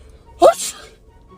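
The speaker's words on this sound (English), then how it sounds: "Pretending to sneeze in my wife's face." A man fakes a sneeze toward his wife, a single sharp burst of breath and voice close by, followed by a brief spoken reaction.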